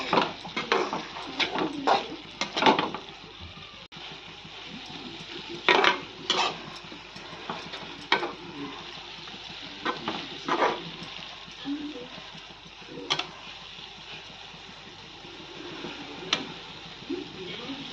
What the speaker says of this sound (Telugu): ఇప్పుడైతే బాగా కలుపుకోవాలి.